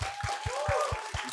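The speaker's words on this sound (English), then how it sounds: "Let's have another round of applause." Audience applause for a live band, a dense wash of clapping with a few louder low thumps and some faint voices mixed in, brief and steady.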